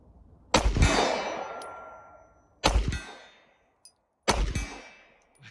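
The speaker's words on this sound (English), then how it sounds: "Who knew a pistol designed in 1896, pre-1896, would cycle modern hollow point ammunition and modern subsonics?" A Mauser C96 pistol fires modern hollow-point and subsonic rounds at a range, giving three loud, sharp reports spaced about two seconds apart, each followed by a long ringing decay and echo.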